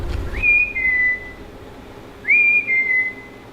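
Two clear, rising-then-falling whistles, loud and close, sound from inside a reputedly haunted building in Seattle, separated by a short pause, with no talking.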